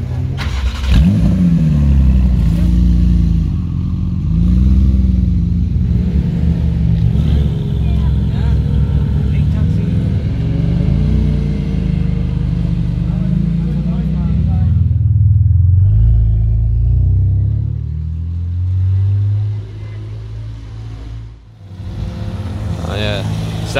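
BMW M3 race car engine idling and revving on an open track day, a loud, continuous mid-low drone with rising and falling pitch sweeps, close to the microphone, with speech mixed in.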